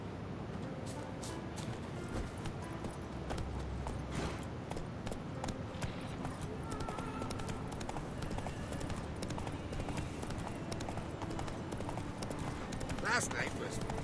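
Roach, the horse in The Witcher 3, gallops with a steady, fast clip-clop of hooves that runs through the whole stretch, close and fairly loud, over a busy game soundscape and a brief whinny-like burst near the end.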